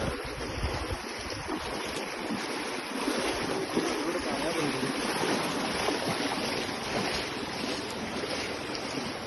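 Fast-moving floodwater rushes in a dense, continuous roar, with a steady hiss and low churning and no pauses.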